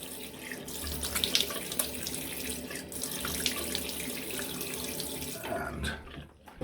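Cold tap water runs in a steady, full stream into a sink during a head shave, a close, continuous splashing rush that thins out and nearly stops near the end.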